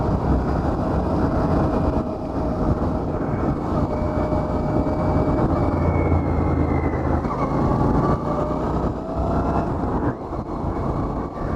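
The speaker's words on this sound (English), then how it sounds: "in the back of it you can still hear that parallel exhaust" Continuous low, throbbing parallel-twin exhaust of a Royal Enfield motorcycle drones steadily with wind rush, the note rising and falling slightly as the ride continues.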